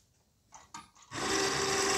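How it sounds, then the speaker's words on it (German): Grinding, rasping whir of a cable winch fitted inside the cab of a Piaggio Ape 50 carrying a snow plough blade, starting after a few faint knocks and running loud and steady to the end. "Weil die Seilwinde, die ist ein bisschen innen, das hört sich schon krass an."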